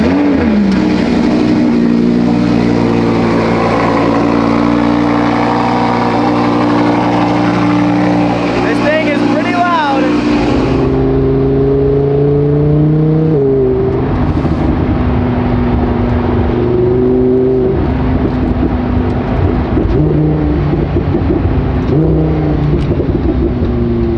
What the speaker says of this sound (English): let's go ahead and get started up with the new Valvetronic exhaust.